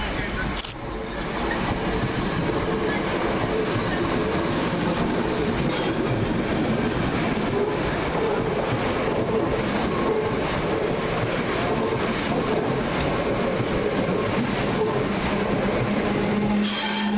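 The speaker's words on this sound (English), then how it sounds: "Passing through the station not in service is 317884 and 317338." Two Class 317 electric trains running through Hackney Downs station out of service, a loud sustained rumble of wheels on rail with faint clicking and squeal, close and continuous throughout.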